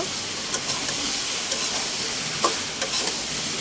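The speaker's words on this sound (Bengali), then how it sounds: "ভালো করে লৌকিটাকে মিক্স করতে হবে সেই মশলার সাথে" Taro stolons are stirred into a spice paste frying in oil, with a steady loud sizzle and hiss broken by occasional soft scrapes and taps of the spoon, close and without talk.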